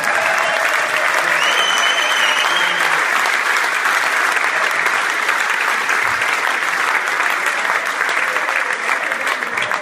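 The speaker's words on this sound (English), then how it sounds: "I think deserves a massive round of applause from him, guys" A large crowd at a gala dinner for a 2010 promotion-winning team gives a sustained round of applause, steady dense clapping filling the room for about ten seconds, with a few faint voices in the background.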